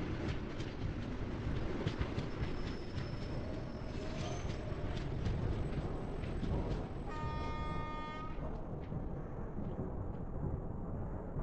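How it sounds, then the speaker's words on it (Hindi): A train rolls into an Indian railway station with a loud, continuous rumble of wheels and carriages close by, plus a brief rising tonal whine partway through; no talk is heard over it. "देखो एक ट्रेन आ गया यहाँ पे"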